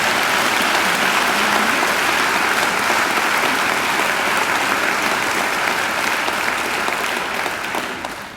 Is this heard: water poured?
no